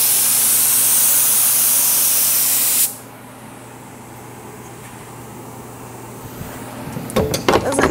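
Activator for hydro dip film sprays in a loud, steady hiss for about three seconds, then stops, leaving quiet room noise and a few soft clatters near the end.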